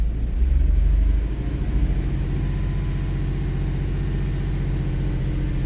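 The engine of a 2008 Nissan Altima with a lean fault swells in a deep revving rumble at first, then settles into a steady, loud idle drone heard up close.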